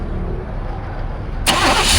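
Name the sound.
Chevy OBS truck engine starting then quitting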